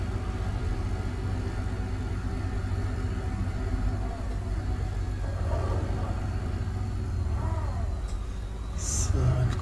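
A tractor engine in Landwirtschafts-Simulator 15 runs steadily at low, droning revs, a continuous mid-loud rumble with a brief rise near the end.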